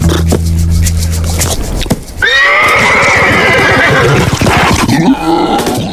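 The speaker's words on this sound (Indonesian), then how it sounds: "ada seekor zebra." A zebra calls with a loud, close, horse-like whinny that rises into a long, wavering neigh, with softer clip-clop and scraping sounds around it.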